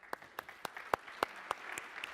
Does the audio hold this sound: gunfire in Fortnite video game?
no